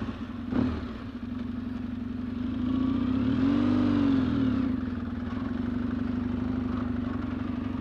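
An off-road motorcycle engine drones and then revs up with a rising and falling whine as its rear wheel spins without grip on ice, loud and close after a brief clatter at the start.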